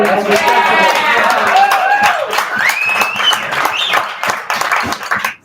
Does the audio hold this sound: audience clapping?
yes